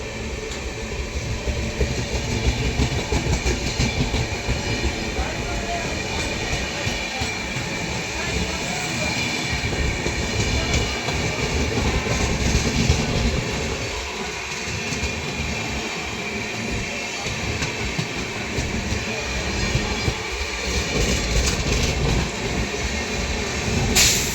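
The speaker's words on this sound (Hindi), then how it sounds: "और अपनी ट्रेन का डिपार्चर हो गया है मथुरा जंक्शन से" Punjab Mail passenger train rolling out of Mathura Junction toward Agra Cantt, a loud continuous rumble of wheels and carriage noise with rhythmic clatter throughout, close and steady.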